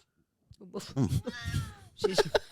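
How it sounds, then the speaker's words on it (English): A pet cat meows in drawn-out, wavering calls, close and fairly loud, while a person talks to it around the cries. "She's a cat."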